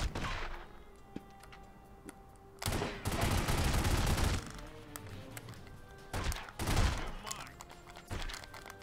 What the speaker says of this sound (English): Tommy guns are really OP in here